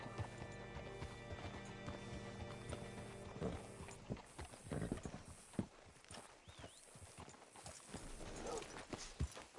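Horse hooves clip-clopping at a walk in the video game Red Dead Redemption 2, a steady rhythm of hoof strikes up close, with a low background hum.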